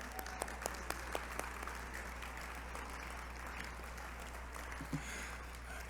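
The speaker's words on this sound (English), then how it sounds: "Let's give him a big round of applause" Steady applause from a crowd at a 35th anniversary gala for Books for Africa, with sparse louder claps standing out near the start as the clapping fades gradually and evenly.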